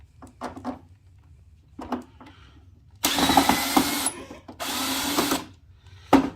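A power screwdriver gun backs screws out of a NordicTrack T Series 6.5 S treadmill in two loud, close whirring bursts of about a second each. A few soft knocks and handling noises come before them.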